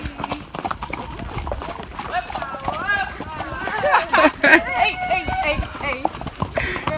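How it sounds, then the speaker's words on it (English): Horses on a trail ride in San Juan, Puerto Rico, run with rapid clip-clopping hooves, close and uneven, while people talk and exclaim over the hoofbeats. "everyone's horse just started running."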